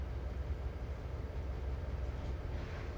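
A Norfolk and Western freight train hauling big coal cars rolls along in the Trainz 2022 simulator, a steady low rumble with faint rhythmic wheel noise, even and continuous at moderate distance.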